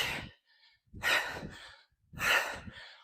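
Heavy, labored breathing during a hard HIIT workout: three long, loud exhales or gasps close to the mic, separated by brief pauses, with no speech.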